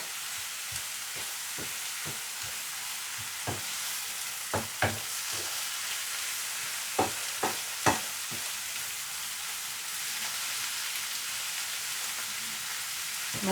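Mushrooms cook down in a pan for a mushroom, ham and cheddar quiche, a constant bright sizzle broken by scattered spatula taps and scrapes.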